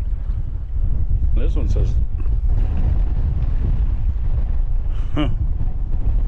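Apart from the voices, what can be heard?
wind blowing outdoors while metal detecting by a river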